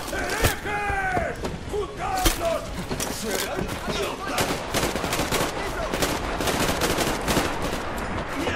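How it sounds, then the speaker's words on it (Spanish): Bursts of gunfire in the video game Metro Exodus crack out repeatedly, some in rapid volleys, mixed with excited voices talking over the shots. "le han dado un disparo"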